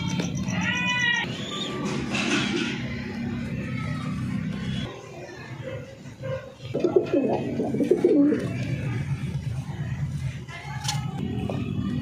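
A pigeon laying an egg coos in low, throaty rolling calls, close by and intermittent, with quiet background noise and rustling around it.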